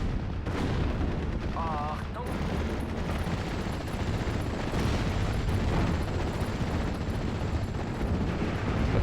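Mortar fire in the World War II strategy game Steel Division: Normandy 44 makes a dense, continuous rumble of battle, with heavy booms and crackling shots layered over each other and someone talking over the din.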